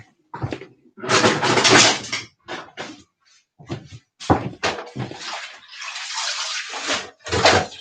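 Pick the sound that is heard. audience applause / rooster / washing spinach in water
washing spinach in water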